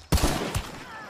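A single sharp gunshot in the video game Hunt Showdown, loud and close, with a short echoing tail and a second fainter crack just after.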